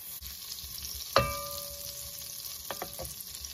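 Butter sizzles softly in the bottom of a soup pan, with a sharp metallic clink of a utensil against the pan and a few lighter taps afterward.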